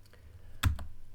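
A computer keyboard gives a few soft key taps followed by one sharper, louder keystroke, close up and without talking.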